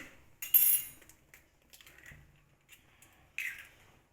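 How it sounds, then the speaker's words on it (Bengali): Two eggs cracked into a bowl, sharp isolated taps and cracks separated by quiet gaps, close up. "তো আমি ডিমগুলো ফাটিয়ে নিচ্ছি।"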